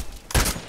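A single sniper rifle shot in the video game Contract Wars, one loud, sharp blast with a brief ringing tail against quiet background.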